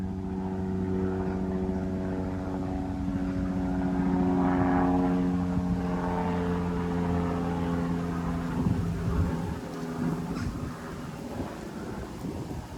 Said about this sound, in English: I just had to wait for the airplane to go by.